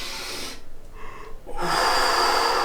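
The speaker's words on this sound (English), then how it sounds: "Nice and deep breath." A deep inhalation drawn in through the mouth, a breathy rushing sound over a couple of seconds, fairly close and with no talking.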